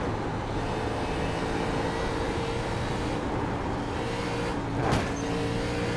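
A race car engine drones steadily throughout in the iRacing sim, a Maconi B-Fixed car at Rockingham, with a sharp swell near the end as the car pushes near the wall while sliding.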